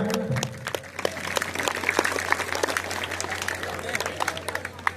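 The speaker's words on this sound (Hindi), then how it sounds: "जोरदार तालियां" A Ramlila audience at a Bharat Milap performance breaks into loud, sustained applause, dense and close, with a steady hum and voices audible underneath.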